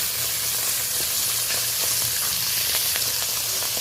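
Large egg-laden mourala fish from a home pond frying in smoking-hot oil, giving a steady, dense, close sizzle with crackles and pops throughout and no voices.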